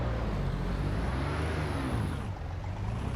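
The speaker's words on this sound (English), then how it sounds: "I can immediately hear a high-pitched rattling noise." An old car on the Brands Hatch circuit in the Assetto Corsa EVO racing game drones steadily with a constant engine roar and a thin, high-pitched rattling whine running throughout, loud and continuous.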